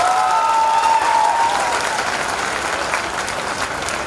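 Audience clapping at a Hindi poetry recital by a poet on Teachers' Day: loud, full applause from a large crowd, strongest at the start and steady throughout, with a faint whistle-like tone in the first second and a half.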